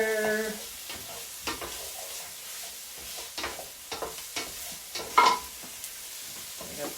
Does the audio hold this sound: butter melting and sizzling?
yes